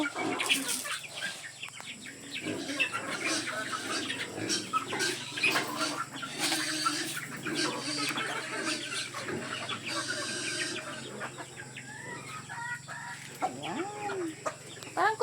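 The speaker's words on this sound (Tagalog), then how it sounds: "Ito lang yung sisiw ko." Pet chickens and chicks cluck and peep continuously at close range, with scattered louder calls and some wing flapping over a steady background.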